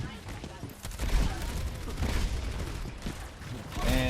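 Bastion's ultimate in Overwatch, a dense barrage of gunfire and explosive booms that rolls on for several seconds under ongoing talk.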